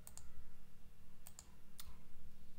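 A few sharp, sparse keystrokes on a computer keyboard while entering a git command, landing in small pairs over a steady low electrical hum, with no talking.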